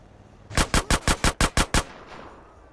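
Eight rapid, sharp gunshots from GTA San Andreas The Definitive Edition, evenly spaced in a quick burst, loud and close, followed by a fading tail and quiet.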